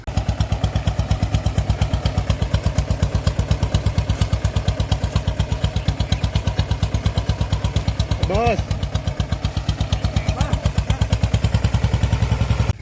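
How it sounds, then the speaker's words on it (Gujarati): A diesel tractor engine chugs steadily nearby in a field in Gir, Gujarat, with a rapid, even thumping rhythm throughout; a brief voice cuts in once under the engine noise. "જો ભાઈ આવી ગયું ટ્રેક્ટર"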